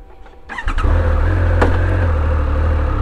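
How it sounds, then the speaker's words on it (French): A 2025 Triumph Speed Triple motorcycle starts with a keyless ignition: a brief starter whir catches and the engine settles into a loud, steady, close idle with a rumbling low tone. "Démarrage sans clé."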